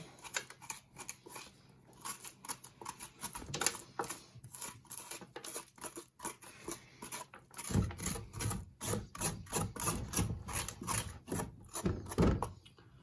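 A spoon scraping out the inside of a hard pumpkin, repeated rhythmic rasping strokes that grow stronger and more forceful partway through, close and steady.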